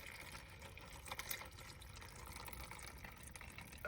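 Salt water mixed with oil drains from a Cadillac DTS engine into a pan, a faint steady pouring trickle with soft splashy texture and no voices.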